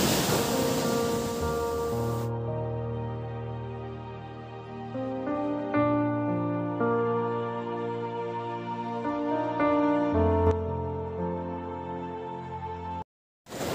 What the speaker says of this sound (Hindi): भाई सच में बहुत खूबसूरत बीच है और पानी भी चढ़ता चला आ रहा है ऊपर